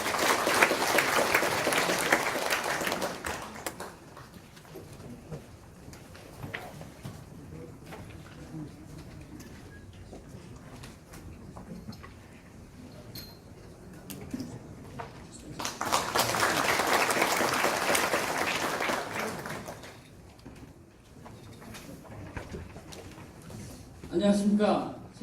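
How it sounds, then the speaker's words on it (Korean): Audience applause at a Korean provincial council policy forum, two bursts of clapping in a hall separated by a long stretch of quiet room tone and an announcer's voice. "큰 박수 부탁드리겠습니다"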